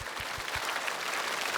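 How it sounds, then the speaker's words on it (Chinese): Applause comes from a stand-up comedy audience, a faint, diffuse patter of clapping heard from a distance, with a few soft low thumps at the start. "认识刘佳琪的朋友们鼓鼓掌好不好？"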